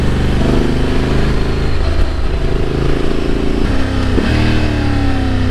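Honda Africa Twin motorcycle engine heard while riding, a loud continuous drone with pitch steps and drops as it shifts down under braking, mixed with wind noise.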